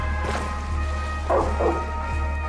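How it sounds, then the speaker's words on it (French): A dog barks in Far Cry 6, a couple of short, sharp barks in the middle of steady low game ambience, moderately close and fairly loud. "le chien, il va fermer sa gueule là"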